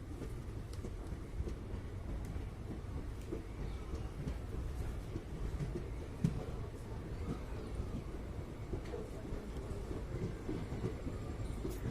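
Hoshiarpur Express train rolling slowly into Delhi Sabzi Mandi station, a steady low rumble of wheels and carriages with faint clanks, heard from inside, fairly quiet and continuous.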